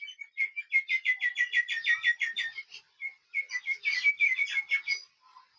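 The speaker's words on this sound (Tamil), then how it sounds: "இன்னொரு பக்கம் பறவைகளின் ரிங்காரம் இடும் சத்தம்." Birds chirp in rapid, repeated bursts of high, bright notes, fairly close and with no other sounds around them, at Palaniyappa Dam in Theni.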